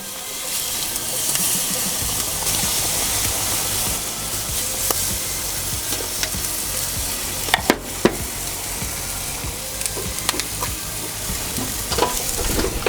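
Country style BBQ ribs basted with sauce sizzle on a barbecue turned to low heat, a steady close crackling hiss with occasional louder pops and no voices.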